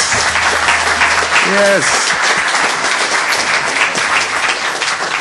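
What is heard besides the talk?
audience applause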